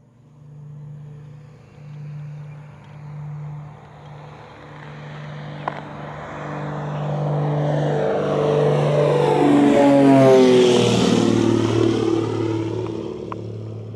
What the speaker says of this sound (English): You can hear an aeroplane off in the distance.